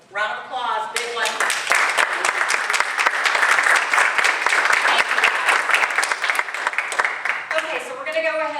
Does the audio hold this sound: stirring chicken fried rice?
no